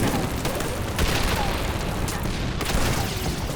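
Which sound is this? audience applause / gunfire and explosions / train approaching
gunfire and explosions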